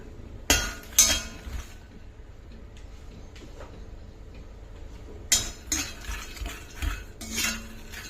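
Fox nuts roasting in ghee are stirred in a metal pan with a spoon, giving sharp scraping clinks in scattered bursts and quiet pauses, close by and fairly faint, with no talking.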